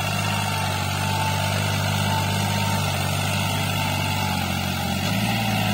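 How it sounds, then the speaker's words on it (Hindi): A New Holland 3600-2 tractor in second high gear pulling an 11-tine tiller, a continuous loud, low engine drone with steady humming tones that dip slightly near the end. "ये 11 टाइन का टीलर है और आप देख सको ट्रैक्टर के जोर, सेकंड हाई में ट्रैक्टर चल रहा है"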